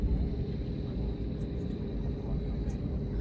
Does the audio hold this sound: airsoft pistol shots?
no